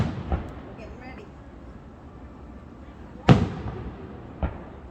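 Fourth of July fireworks over North Conway, New Hampshire: a distant boom near the start, then a sharp loud bang with crackling tail and another thump later, separated by quiet stretches of low murmuring voices.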